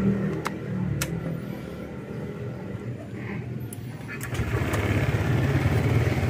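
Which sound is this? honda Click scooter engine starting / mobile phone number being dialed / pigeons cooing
honda Click scooter engine starting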